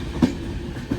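The Yesvantpur–Karwar Express rolls along the line, a steady close rumble of carriages broken by two sharp clacks as the wheels cross rail joints.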